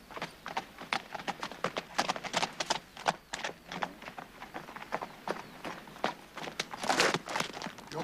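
Several horses trot along with a steady, overlapping clip-clop of hooves at moderate distance, a brisk continuous rhythm throughout with no talk.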